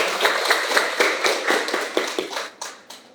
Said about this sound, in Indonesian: Beri tepuk tangannya untuk jawaban